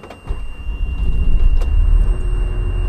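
A school bus engine cranks and starts during a pre-trip inspection, a deep low rumble building and settling into a steady idle, loud and close inside the cab with a faint high whine over it.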